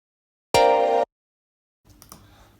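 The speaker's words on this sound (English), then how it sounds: "just a random one called Be Free. It's just like a pluck sound." A single dry synth pluck from the Nexus 'Be Free' preset, played without arpeggiator or effects: one short bright note lasting half a second, followed by silence and a faint low rustle.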